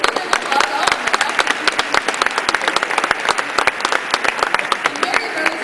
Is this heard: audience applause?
yes